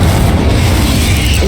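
A Confringo explosion spell going off in Hogwarts Legacy, a loud, dense booming blast that fills the whole short moment with no voice over it.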